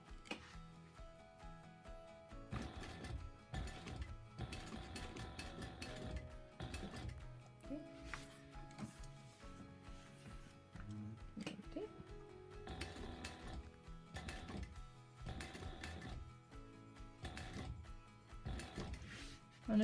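A sewing machine stitches along a fabric sling seam without back stitching, its motor whirring in repeated bursts of mechanical ticking and clatter at close range, with short pauses between runs and no talking.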